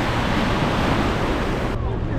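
Continuous rushing ocean surf and breaking waves at a beach on Grand Turk, loud and close with wind buffeting the microphone and no clear talk.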